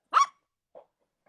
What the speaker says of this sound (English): Oh, you hear the doggy bark?